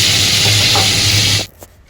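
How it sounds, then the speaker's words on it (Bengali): Potatoes and bitter gourd frying in a pan, a loud, dense hissing sizzle that runs steadily and then cuts off abruptly, followed by a faint clink and near quiet. "আর এখানে আলু আর করলা ভেজে নিচ্ছি।"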